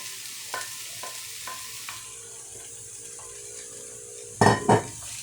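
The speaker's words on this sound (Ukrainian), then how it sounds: "Кабачки будемо смажити десь 7-10 хвилин." Steady low sizzle of zucchini frying in oil, with a few soft utensil taps, then a loud burst of stirring and sizzling near the end.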